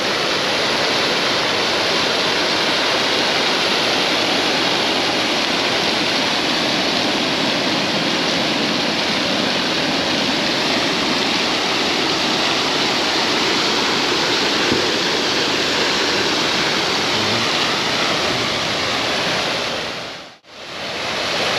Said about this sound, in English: These sculptures have fountains around them that go on and off.